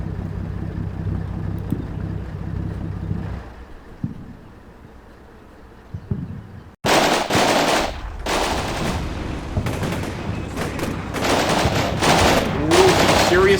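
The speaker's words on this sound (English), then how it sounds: "Ooh, serious fire up that hill, man." Heavy gunfire in the Cold War wargame Combat Mission: a low rumble gives way to loud bursts of machine-gun fire and blasts in rapid clusters, close and dense.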